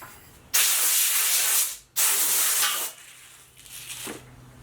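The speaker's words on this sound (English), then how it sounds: "One thing with the compressed air, when you're blowing it into stuff where there's little cups and little holes, it blows all that crap right back at you." Compressed air blasts in two long, loud hissing bursts while cleaning out a unit, followed by softer, shorter puffs of air, close up, with no voices.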